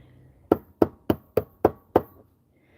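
A hammer taps gently on a lock workpiece to compress its spring, six evenly spaced, close, sharp knocks followed by a brief pause and the start of another tap.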